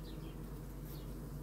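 Honeybees buzzing around a frame lifted from a beehive, a continuous low droning hum that stays even and fairly quiet throughout, with no voices.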